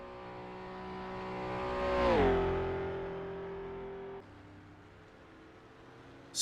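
A Mercedes racing in the Isle of Man time trial roars past close by, engine note rising then dropping in pitch as it passes, then fading to a distant hum.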